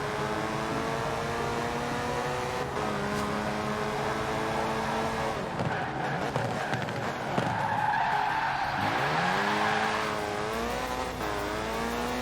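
A car in the video game Forza Horizon 4 roars through a speed trap, its engine revving and climbing through gears with tires skidding and squealing, loud and close.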